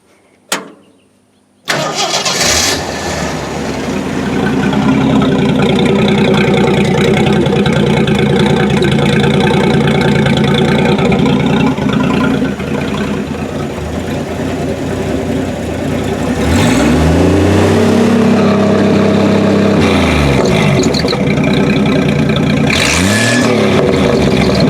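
1972 Jeep CJ5 engine cranking and catching after a brief click, then settling into a loud, steady idle, followed by two sharp revs that rise and fall near the end.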